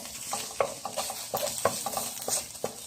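Onion and ginger sauté in a little oil in a pan for pork belly and milkfish adobo. Quick scraping stir strokes come in an uneven rhythm over a continuous close sizzle.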